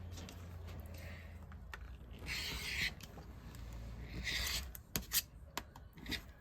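Small rotary cutter slicing through quilt fabric scraps, giving two brief rasping cuts over a low steady hum, followed by a few sharp clicks and knocks.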